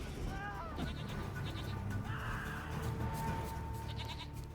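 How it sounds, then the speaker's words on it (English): Goats in a video game bleat a few times, high wavering cries that rise over a steady low in-game rumble with some faint chiming tones, nearby and moderately loud. "Will he attack these goats? That kind of sound like sheep to me"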